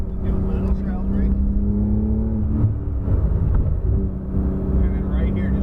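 A supercar engine on a race track revs up under building throttle with rising harmonic tones, a brief shift dip midway, then climbs again. An instructor talks over it.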